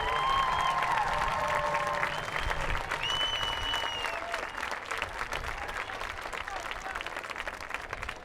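Broad, steady crowd applause in a high school football stadium for senior players and their families, filling the air for about eight seconds, with a few faint whistles early on.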